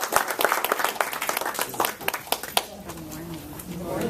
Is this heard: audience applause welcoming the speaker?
yes